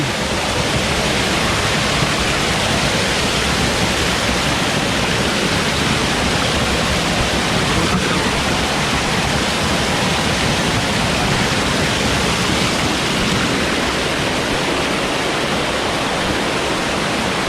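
Kaparkan Falls, a waterfall in Peñablanca, Cagayan, gives a steady, dense roar of falling water. It is loud and close and stays constant throughout, with no voices heard.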